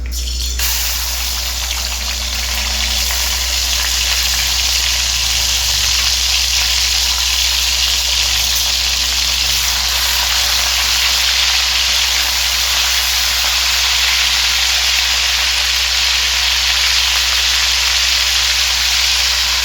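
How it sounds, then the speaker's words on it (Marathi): Ginger garlic paste sizzles in hot oil in a pan for chicken lapeta, a steady loud hiss that holds at one level throughout, with no voices. "ऑइल गरम झालेलं आहे. आता आलं लसूण पेस्ट टाकून घेऊया."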